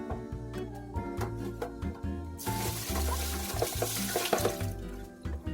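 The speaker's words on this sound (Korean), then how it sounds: "채반이 분리되어 흐르는 물에 세척해서 사용하기 좋아요" Vegetables in the removable colander basket of a 4.4-liter plastic salad spinner are rinsed under a kitchen tap. Light plastic clatter comes first, then a steady, close rush of running water splashing through the basket.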